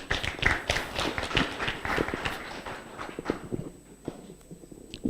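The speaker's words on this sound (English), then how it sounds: "Can we clap for the group?" Applause from a group of attendees at a farming project event in Mbale, Uganda, a dense patter of many hands clapping at close range that thins out toward the end.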